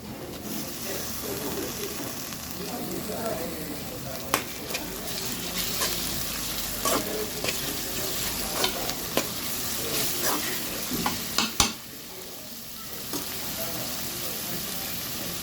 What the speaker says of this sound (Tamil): வெங்காயம் நல்லா வதங்கிட்டு இப்போ இஞ்சி பூண்டு சேர்த்துருக்காங்க.